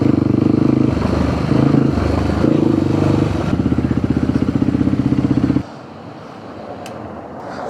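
Supermoto motorcycle ridden on a sunny day, its single-cylinder engine loud and close with a rapid pulsing exhaust beat and wind rush, then easing off into a quieter coast near the end.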